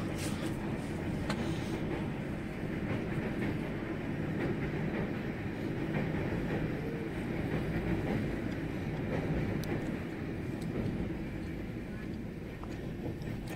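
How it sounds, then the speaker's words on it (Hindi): A local train in Mumbai rumbles steadily throughout, a continuous low roar of rail travel with faint rattling, as if heard from inside a moving carriage. "local train"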